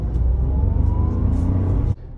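A Tata Altroz hatchback pulls away in first gear, its engine a steady low rumble and whir heard from close by before cutting off abruptly.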